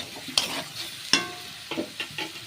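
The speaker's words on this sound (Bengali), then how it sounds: "গুড় দেবো আর এর মধ্যে কাসুরি মেথিটাও দিয়ে দেবো। দিয়ে আমি একটু নাড়াচাড়া করব।" A spoon stirs vegetables in a hot pan with jaggery and kasuri methi, giving sharp scraping knocks and soft sizzling in an irregular rhythm, close and fairly quiet.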